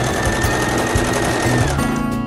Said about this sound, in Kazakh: айландырып тігіп шығамыз